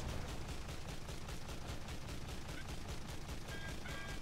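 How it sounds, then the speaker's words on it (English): Rapid, evenly spaced bursts from 25mm anti-aircraft guns on a Japanese Yugumo-class destroyer in the naval combat game War Thunder, a steady pounding rhythm about five shots per second, faint and distant. "my AAA guns, the 25mm, actually hit the destroyer over and over again"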